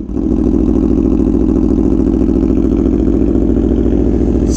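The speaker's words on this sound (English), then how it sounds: "You'd like to hear a cult startup on a 2017 Aprilia Tuono V4 1100 factory with an SC Project CRT exhaust?" A 2017 Aprilia Tuono V4 1100 Factory with an SC Project CRT exhaust idles after a cold start: a loud, steady, close V4 burble with an even low throb and no revving.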